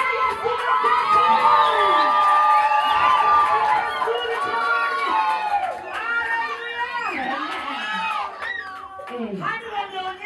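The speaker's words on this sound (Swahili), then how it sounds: "Sasa pigia Yesu makofi" A church congregation at Jesus Gospel Church cheers and shouts in praise, a loud, dense crowd of raised voices and whoops, including children, that runs throughout and eases slightly toward the end.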